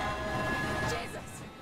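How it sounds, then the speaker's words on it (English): A train rushes past in the Alien Isolation video game, a loud rumbling rail roar with a steady tonal hum that swells and then fades as it goes by. "when the train nearly hits us, it goes straight through the wall rather than curving round with the track"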